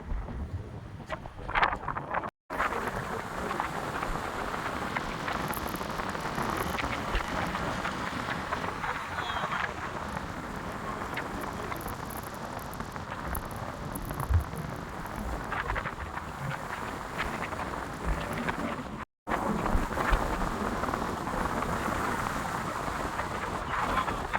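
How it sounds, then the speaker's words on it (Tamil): Strong wind gusting across the Pamban bridge, a continuous broadband roar buffeting the microphone for the whole stretch, with brief dropouts and faint voices mixed under it. "காற்று செல்லுன்னு அடிக்குது."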